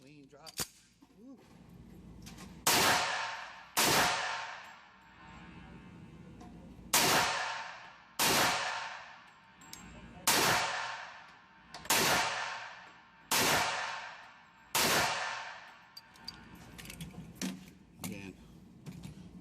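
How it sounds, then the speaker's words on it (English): Tripp Research Cobra magazines for a 1911 pistol drop out of the gun again and again, each release a sharp metallic clack with a brief rattle, about seven in a steady rhythm, close and clear with little else around. "See these mags drop so clean, so free."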